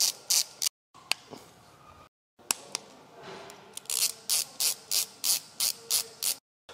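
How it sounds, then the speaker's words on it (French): Torque wrench on Renault Mégane 3 RS engine screws, sharp metallic clicks in short bursts, ending in a steady run of about nine evenly spaced ratchet clicks close by. "on fait un dernier passage pour vérifier que le couple de serrage est respecté partout"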